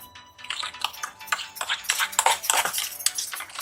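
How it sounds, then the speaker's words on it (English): Melted homemade white and milk chocolate stirred off the heat, a rapid run of metal utensil scrapes and clinks against a bowl or pan, close and continuous, growing busier toward the end. "So now we need to off the heat and continue stirring."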